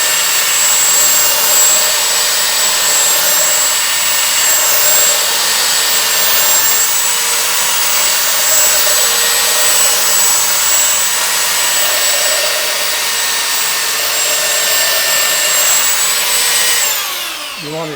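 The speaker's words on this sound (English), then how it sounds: "So you want to be sure that you don't do this with your sander" Electric sander running on the edge of a board in a woodshop, a loud steady whine held for most of the time before it winds down at the end.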